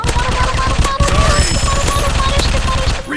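Rapid automatic gunfire from a robot first-person shooter game, loud and continuous, with tightly packed shots running from start to finish.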